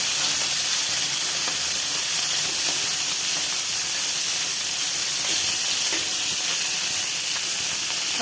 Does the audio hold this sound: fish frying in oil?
yes